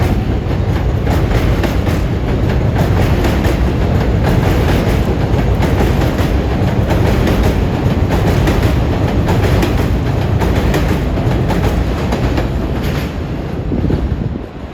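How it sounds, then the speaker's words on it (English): New York City 7 line Flushing-bound express subway train running past a station platform: a loud, sustained rumble of wheels and rhythmic clickety-clack over rail joints, steady throughout with a faint squeal, no voices. "Here comes our first Flushing-bound express."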